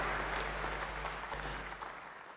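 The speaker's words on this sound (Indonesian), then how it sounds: "Beri tepuk tangan bagi dia." A church congregation claps together in a sustained, fairly soft burst of applause lasting a couple of seconds, with a low hum running beneath and the clapping easing slightly toward the end.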